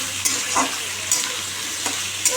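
Potato, capsicum and onion frying in a pan, with a steady low sizzle and a few soft scrapes of stirring, close and alone.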